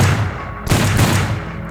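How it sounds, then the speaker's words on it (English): Gunshots in a dramatized retelling of John Lennon's shooting outside the Dakota: a loud sharp report cuts in partway through, following an earlier rumbling blast, with a booming low tail that rings on and slowly fades. "5 gunshots"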